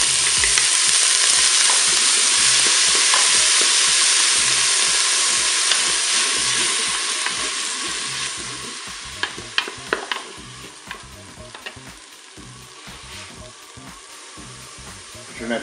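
Leek sizzling and being stirred in a Cookeo multicooker on its browning setting for a fish soup: a steady loud frying hiss that eases over time, with scraping stirs and small clicks toward the end, no talk.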